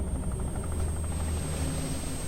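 Helicopter rotors spinning up in the video game Dredge, a steady low chopping engine drone that runs continuously and loud throughout, with no voices.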